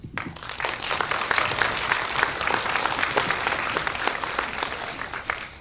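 A theater crowd at a live true-crime event in Vancouver applauds the sponsors, a thick, continuous rush of many hands clapping at a steady level, heard from within the audience with no speech over it.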